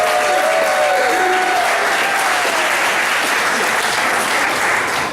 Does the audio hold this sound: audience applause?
yes